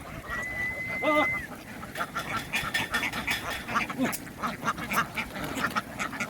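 Ducks crowd ashore and board in a busy flock, their rapid overlapping quacks forming a loud, continuous buzzing chatter, with one sustained call rising early on.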